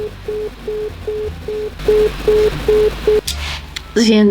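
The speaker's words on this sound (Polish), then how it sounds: "dzwonię tutaj na telefon, y, gdzie był zamówiony. Telefon na labie, ale zajęty jest." A telephone busy signal beeps in a regular on-off rhythm, about ten short tones, before cutting off into brief noise and a burst of sound.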